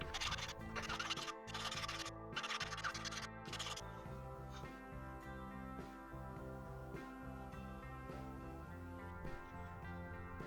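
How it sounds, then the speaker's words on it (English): A metal file rubbing excess solder off the surface and sides of a stone-set silver split ring, giving a steady scratchy rasp that runs continuously through the clip. "file down the excess solder on the surface of the ring, as well as file the sides of the ring level"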